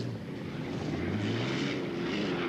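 A turbine-engine hydroplane race boat on the Ohio River during a 1986 heat makes a steady, loud whining roar whose pitch slowly rises and shifts as it runs past, with no talk.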